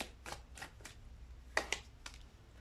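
Tarot cards riffled and shuffled in a deck, then a couple of cards slid out and drawn, soft papery flutters close up and fairly quiet.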